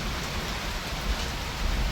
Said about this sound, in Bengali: এখন দেখছি বৃষ্টি পড়ছে প্রচণ্ড